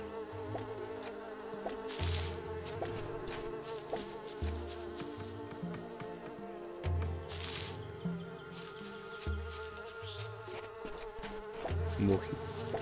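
Flies buzz continuously in the online fantasy role-playing game Royal Quest, a close, droning hum over steady game background tones, with short louder swells now and then.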